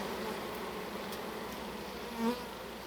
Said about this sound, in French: ça c'est des abeilles qui sortent vraiment d'un trou de mur ou quelque chose comme ça